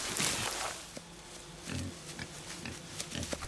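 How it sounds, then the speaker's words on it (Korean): A piglet oinks and squeals in a Hawaiian warrior drama. The grunts come in short, separate bursts over a rustling, noisy background, and they sound fairly close but not loud. "카이아나의 눈앞에 등장한 새끼돼지."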